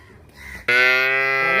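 A dairy cow at a cattle market in Dinajpur gives a single loud, sustained moo, close by and abrupt after quiet background murmur, holding strong for about a second.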